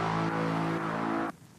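A distorted mid bass synth patch made in Ableton Live, running through a send effect, plays one loud, buzzy, harmonically rich sustained note alone before cutting off sharply near the end.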